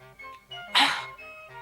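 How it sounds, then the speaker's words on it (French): A little puppy in the French animated series Il était une fois la vie gives one brief, sharp yelp over soft background music. "Un petit chien?"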